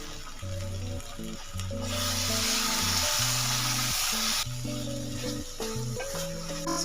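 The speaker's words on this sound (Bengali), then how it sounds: "এইভাবে মশলার সাথে মাশরুমগুলো খুব ভালোভাবে কষিয়ে নিতে হবে" Mushrooms sautéing with spices in a pan, a continuous close sizzle and hiss under a stretch of background music.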